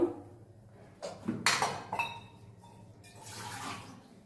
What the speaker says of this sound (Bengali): তো এখানে আমি একটু পানি দিয়ে দিচ্ছি